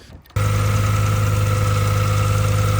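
An Audi RS6 V10 engine roars to life and holds a steady, loud idle at slightly raised revs while warming up, with a constant deep hum and no voices.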